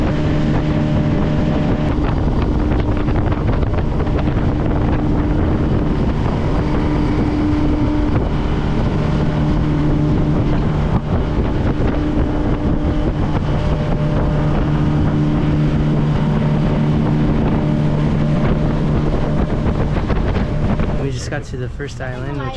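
A motorboat runs steadily on open water on the way to Mabul Island off Semporna, its engine a loud, constant drone mixed with wind buffeting the microphone, easing off only at the very end.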